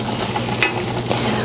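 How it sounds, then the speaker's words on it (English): Sliced tri-color bell peppers sautéing in a little olive oil with shallots, a close, loud, steady sizzle with a few stirring scrapes, no talking. "They're sauteing in a little olive oil."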